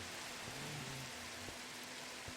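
Rain falls in Minecraft as a soft, steady hiss that stays faint and constant, with a few light taps and a low hum underneath.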